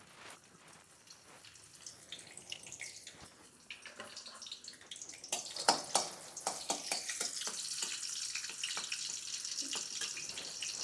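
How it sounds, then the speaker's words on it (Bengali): Bay leaves frying in a spoonful of hot ghee in a pan, a steady close sizzle with scattered crackles that grows louder and busier partway through, no talking. "এক চামচ ঘি। দিয়ে দিচ্ছি তেজপাতা।"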